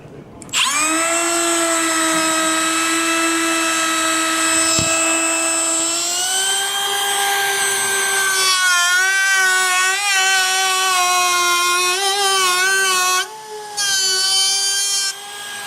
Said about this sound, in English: Now I'm going to do the same cut with the dovetail bit